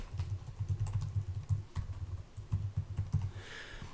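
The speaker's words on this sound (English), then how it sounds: "So I'll go and type that in." Steady rapid typing on a computer keyboard, close and clear, with dense clicking keystrokes and brief pauses, no voices.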